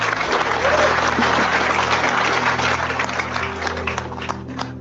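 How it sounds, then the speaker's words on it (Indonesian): A gathered audience at a religious talk gives a dense, sustained round of applause, loud and even throughout, tapering slightly near the end, with a low steady hum underneath. "Tepuk tangan sekali lagi ya"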